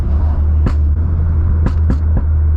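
A modified Ford Focus RS in a canyon: a deep engine drone runs throughout, broken by several sharp exhaust pops and burbles on light throttle, close and loud.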